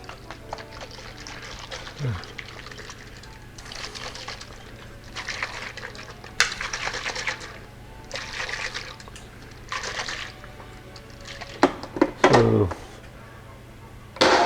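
Cold water poured onto freeze-dried eggs in a kitchen, several short splashing and trickling pours in bursts separated by pauses, with a few clicks and knocks, fairly close and without speech.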